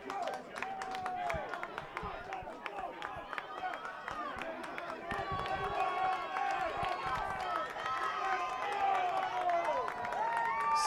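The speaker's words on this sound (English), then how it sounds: "So the crowd trying to get behind Loyola, trying to will them back into this match." A rugby crowd at a men's championship match roars and cheers for Loyola in a sustained, swelling wave of noise, with an announcer talking over it.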